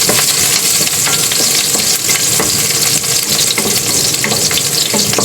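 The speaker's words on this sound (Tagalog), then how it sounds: "Igisa na tayo ng sangkap ng makaroni." Ingredients for macaroni soup sauté in hot oil, making a loud, dense, continuous sizzle with scraping from stirring, heard close and without a break from start to finish.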